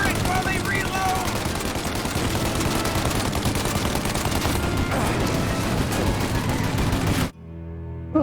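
Rapid turret gunfire in Mafia: Definitive Edition, a relentless close machine-gun rattle lasting several seconds before cutting off abruptly, with a voice shouting over it.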